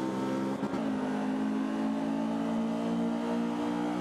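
A BMW 2002 Turbo in Forza Motorsport 5 holds a loud, steady high-revving engine drone on track, with a brief blip near the start.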